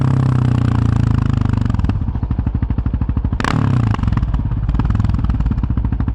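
A Yamaha Raptor 700 ATV engine thumps loud and close in a fast, steady single-cylinder pulse during an evening ride, briefly dropping and surging as the throttle changes, with a sharp scrape midway.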